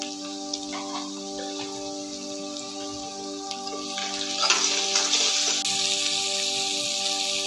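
Onions frying with salt in a pan for egg palak, a steady close sizzle and crackle that grows louder and busier midway, with faint clinks and stirring underneath.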